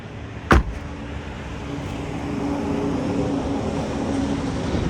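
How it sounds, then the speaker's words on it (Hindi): Maruti Suzuki Alto 800 VXI switched off: a single sharp click near the start, followed by a steady low engine-like drone and broadband hum that carries on without a clear cutoff. "करते हैं भाई गाड़ी के इग्निशन को ऑफ"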